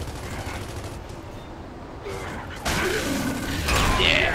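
Rapid gunfire in the video game Gears of War 3, with bursts of shots and mechanical clatter building louder over steady game noise.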